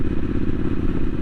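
Triumph Street Scrambler 900 motorcycle riding along a road past a petrol station, a steady low engine drone with wind rumble, continuous and close, with no talking.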